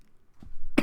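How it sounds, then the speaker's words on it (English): A single sharp cough bursts out near the end, loud and close, after a brief low throat sound and otherwise near silence. "I'm very, very sorry for the cough."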